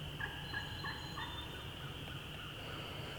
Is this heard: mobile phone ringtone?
no